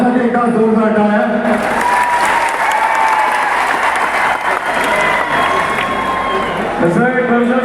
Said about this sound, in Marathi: त्यासाठी एका जोरदार टाळ्या.